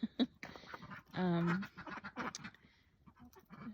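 Ducks kept in a winter coop quack in short bursts, one longer nasal call standing out, while a person talks nearby over them.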